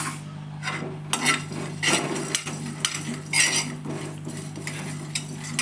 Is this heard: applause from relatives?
no